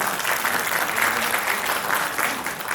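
An audience at a high-level EU-Vietnam semiconductor event in Ho Chi Minh City applauds steadily as a speaker comes on stage, a dense, even wash of clapping throughout.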